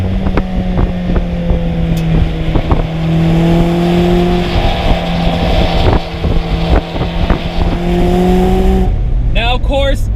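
A 2019 Mazda MX-5 Miata RF with a naturally aspirated 2-liter inline-4 drones steadily while driving, its engine tone rising and holding under a constant road and wind roar, with a brief voice near the end.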